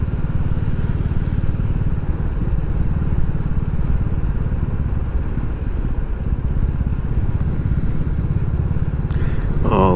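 A Royal Enfield Classic 350 thumps along a narrow country lane with a steady, loud single-cylinder engine drone and a continuous low rumble throughout, with no voices.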